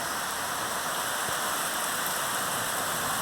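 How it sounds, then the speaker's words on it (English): Heavy rain pours down outside an open door as a dense, steady wash of loud hiss with no break, and no voices. "Oh, it's pouring out there."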